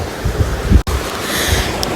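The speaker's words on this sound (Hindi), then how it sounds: "बहुत ही ज़्यादा तेज़ हवा देता है ये फ़ैन" A large fan at Mumbai airport blows a strong steady roar of rushing air that buffets the microphone, loud broadband wind noise that continues without a break.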